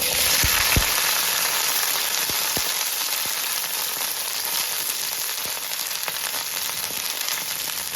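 Chopped okra sizzles steadily in hot coconut oil in a Kerala kitchen, a loud continuous fry hiss with a few sharp pops and crackles near the start.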